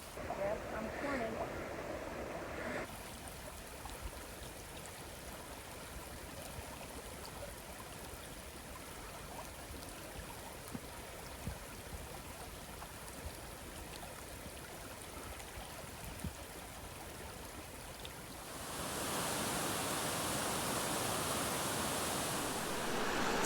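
Fast, deep, cold river rushing past at a backpacking crossing in Yellowstone's Bechler area, a steady broadband wash of water that grows louder and closer near the end.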